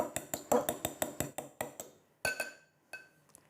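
A whole egg and regular milk are stirred in a bowl for strawberry shortcake dough, with about ten quick, evenly spaced clinks of utensil against the bowl. The clinks thin out to a few scattered taps near the end.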